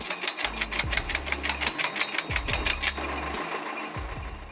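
A tractor-powered homemade automatic firewood processing machine with rotating gears and splitting wedges cutting logs: a steady engine drone with repeated rhythmic mechanical knocks and cutting bursts, moderately loud and close, with no talk.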